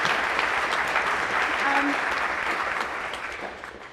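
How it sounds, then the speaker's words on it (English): An audience at a film festival Q&A applauds the filmmaker, a full, loud wash of clapping from a crowd in a screening room that holds steady and then tapers off toward the end. "Please give her a round of applause for that"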